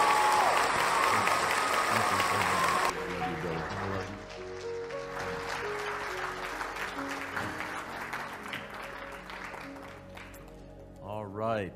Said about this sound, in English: a big standing round of applause for John Van Auken, one of my heroes